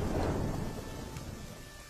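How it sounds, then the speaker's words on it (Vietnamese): Heavy rain pours down in a dense, steady hiss with a low rumble that swells at the start and then eases a little, with no voices heard. "Dù cho mưa to như vậy,"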